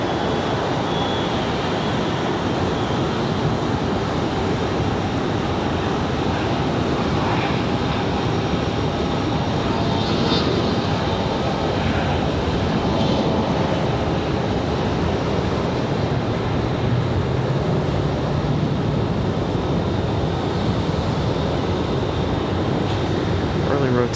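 A Bombardier CRJ jet takes off at Raleigh Durham International Airport, a steady, broad engine roar holding for over twenty seconds, loud and continuous from a distance, with no voices over it.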